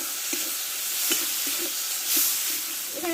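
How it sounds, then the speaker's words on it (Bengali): Ginger, onion and tomato sauté in a pan with salt for a fish roe curry, giving a steady low sizzle broken by soft, irregular spatula stirs and scrapes. "আদা পেঁয়াজটা কষে নিয়েছি আমি টমেটোটা দিয়ে দেবো আর পরিমাণ মতো আমি লবণ দিয়ে দেবো ভালো করে কষে নেবো টমেটোটা"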